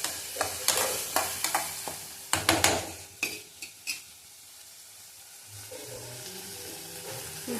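A spoon stirs food in a pan over a low flame, soft sizzling beneath a run of quick scraping strokes and light clinks against the metal, then quieter gentle frying toward the end.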